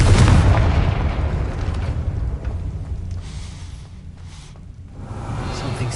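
Confringo fire spell explosion in Hogwarts Legacy, a loud booming blast right at the start that rolls off into a fading rumble, followed by quieter rustling and a low swell near the end.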